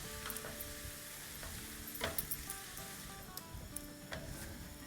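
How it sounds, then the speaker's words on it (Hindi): Masala with onions and fish fries in a pan, making a dense, continuous sizzle with occasional faint clinks and stirring scrapes throughout. "और अब इसको अच्छे से भूनेंगे।"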